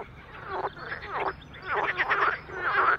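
Frog croaking in a series of four or five rasping, pulsing calls, moderately loud and close, with brief pauses between bursts and no voices.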